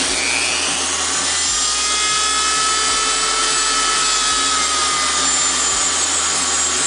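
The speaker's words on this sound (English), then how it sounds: "Grind that copper off the zinc." A Dremel rotary tool grinds the copper plating off a zinc penny, a steady continuous high whine from start to finish with a loud fan running underneath.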